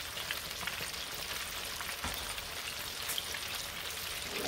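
Stuffed catfish deep-fries in a pan of hot oil, filling the space with a dense, continuous crackling sizzle, close and even, with a brief bump partway through.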